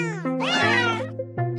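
A video game cat lets out a single clear, close meow with a rising then falling pitch, followed by a brief softer trailing cry.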